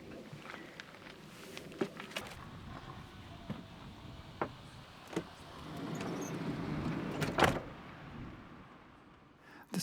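Cars pull in and out of a park-up at night, heard from inside a vehicle: engine noise rises and fades, and scattered knocks and door-like thumps sound at varying distances.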